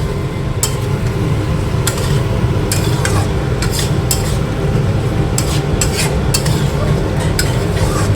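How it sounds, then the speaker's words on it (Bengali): Paneer pieces stirred with spices and cinnamon powder in a hot pan, with a steady sizzle throughout and repeated scraping clinks of a spoon against the pan, close and loud. "মশলার সঙ্গে পনিরগুলিকে ভালোভাবে মিশিয়ে নিব"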